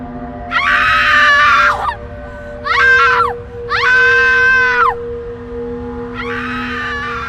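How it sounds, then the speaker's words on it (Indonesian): A woman screams hysterically at the sight of her brother's body, four long, loud wailing shrieks with short pauses between them, the last one somewhat weaker. "adik perempuan Kinana menjerit histeris"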